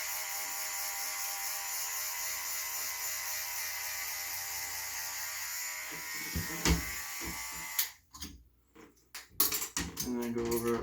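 Electric hair clippers buzz steadily at close range while cutting hair at home, a faint continuous whir that breaks into choppy bursts and stops near the end.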